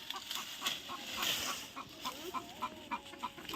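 Chickens cluck softly in short, repeated notes, fairly faint and a little distant, in a quiet outdoor setting with no one speaking.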